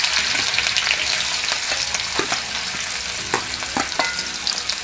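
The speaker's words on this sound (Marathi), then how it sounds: "आणि थोडा कलर बदलेपर्यंत परतवत राहायचं आहे" Finely chopped onion sautés in a pan over mustard seeds and cumin, giving a loud, dense, continuous sizzle with intermittent spatula scrapes and taps close by.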